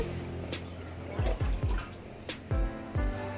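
Water is poured into a pot of curry for a Rayalaseema-style charu, making close, wet splashes and drips with several distinct plops over a low background.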